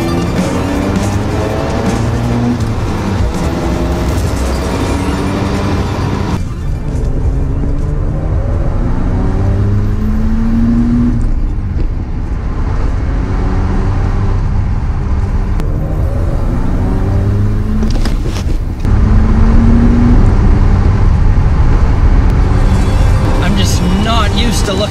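1990s Mazda FD RX-7 with a twin-turbo rotary engine revving hard toward an 8,000 RPM redline, the loud engine climbing through rising gear pulls under someone talking throughout.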